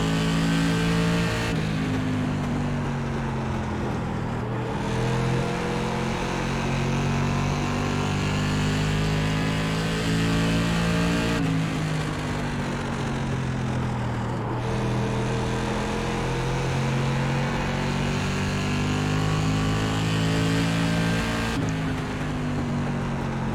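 An SK Modified race car engine at Stafford Motor Speedway in iRacing, a loud, continuous close-up drone that rises in pitch down the straights and drops off into the corners, lap after lap, with no voices.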